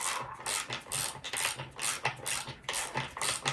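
A nut and washer being turned onto a bolt on a Mercury Mariner outboard motor produce a quick series of close metallic ratcheting clicks in short, uneven bursts, with no voices.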